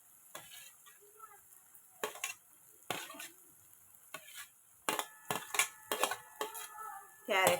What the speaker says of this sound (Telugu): ఇప్పుడు మనము ఫస్ట్ క్యాప్సికమ్ వేసుకుందాము